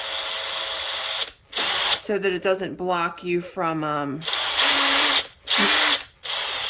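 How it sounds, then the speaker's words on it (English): A power drill whines in loud bursts, drilling out the reinforcement at the end of a reinforced poly V belt for an industrial sewing machine, before and after a stretch of close speech, stopping briefly between runs. "So I hear you drill out the reinforcing in the end"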